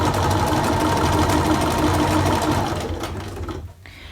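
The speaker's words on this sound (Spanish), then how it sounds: "Una vez que hemos cosido un lado" A sewing machine stitching a straight patchwork seam, a loud steady mechanical whir of rapid needle strokes running continuously, then slowing and stopping near the end.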